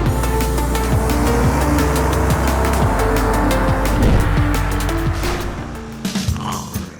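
Cars race in a mobile racing game with loud droning engines. The engine pitch rises repeatedly through gear shifts, with tire squeals and skids and a few thuds near the end, and no voices.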